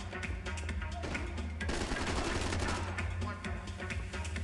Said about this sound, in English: Kind of look around to see who the hell was shooting at me.